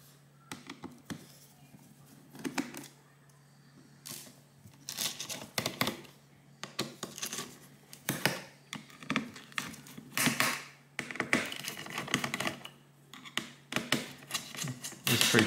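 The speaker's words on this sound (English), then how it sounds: "Tension screws are coming off quite easily." Sharp clicks, scrapes and small metallic taps come from a screwdriver undoing the tension screws on the CPU and GPU cooler of a Lenovo Legion Y530 gaming laptop, in irregular close bursts with quiet gaps.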